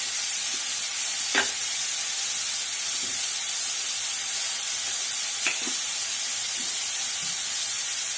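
Onions and spices sautéing in a pan for a South Indian kuzhambu, a steady hiss and sizzle running throughout with a few soft scrapes of stirring.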